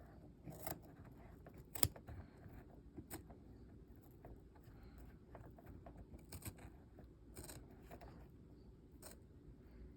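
Scissors snip carefully through the fabric of an embroidered in-the-hoop zipper bag to open a hole, making a few short, quiet cuts over a low, steady background hum.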